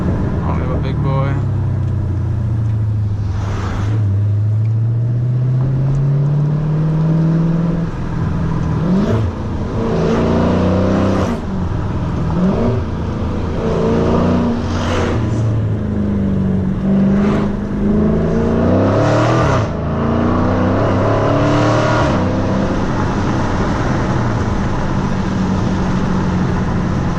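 A Dodge Challenger accelerating along a winding canyon road: its engine revs rise and fall steadily through the turns, close and loud, with a driver talking over the sustained engine drone.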